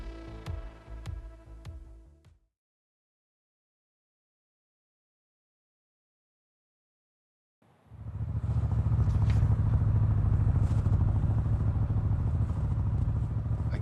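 A motorcycle ridden in the game Rosemary's Fate gives a steady, close engine drone that starts suddenly after a long silence and continues to the end, following brief clattering tones at the start.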